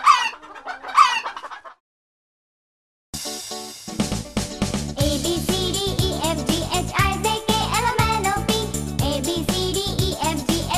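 A hen clucks in a quick run of clear calls near the start, then falls silent before bright tinkling music with a steady beat takes over.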